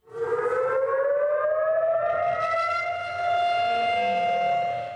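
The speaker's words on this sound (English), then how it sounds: "Air raid sirens mark the moment when the Palestinian militant group Hamas began invading Israel." Air raid sirens wail across Israel on the anniversary of the Hamas attack, a loud rising tone that swells and then holds a long sustained pitch, with no talking.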